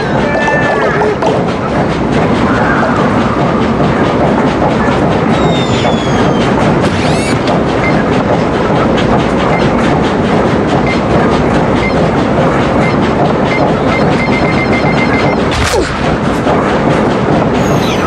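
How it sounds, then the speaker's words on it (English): Loud, continuous train ride from the Sackboy: A Big Adventure video game, a steady rumbling roar with rhythmic clattering and occasional metallic squeals and hits throughout. "this very safe and absolutely not dangerous at all train ride"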